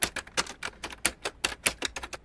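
Rapid typewriter keystrokes clack in quick bursts with uneven rhythm, each strike a sharp close click, loud and alone with no voices.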